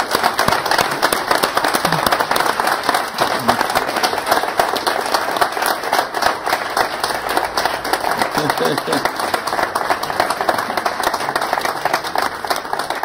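An audience at a book launch for an introduction to Aristotle applauds after an onstage conversation, with a sustained, dense burst of sharp handclaps that holds steady and loud for the full stretch.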